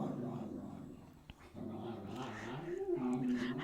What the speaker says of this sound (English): I swear one of my dogs is possessed by a demon or something